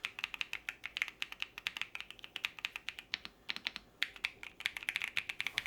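Rapid, fairly even clicks of typing on a computer keyboard with some weight to it, crisp and close, with short pauses in the rhythm and no talking.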